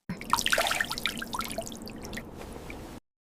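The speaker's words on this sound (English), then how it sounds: "I rinse my face with water." Water splashes and drips close by as a face is rinsed, a quick burst of wet spattering that thins into trickles before stopping.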